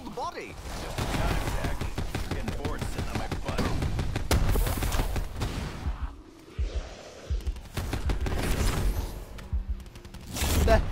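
Gunfire bursts and explosions in the Black Ops 4 video game rattle and boom through the scene, dense volleys with a few dropouts, while players talk over the action.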